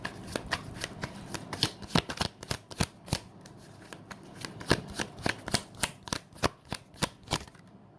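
Tarot cards riffled and shuffled for a reading, a dense run of crisp, close flutters and slaps repeating steadily for several seconds with no talk.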